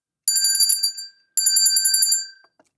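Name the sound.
bell chime on a livestream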